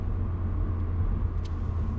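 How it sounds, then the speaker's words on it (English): Steady low rumble of road noise inside a moving Honda Fit GE8 hatchback, a constant broadband drone with no talking. "Road noise."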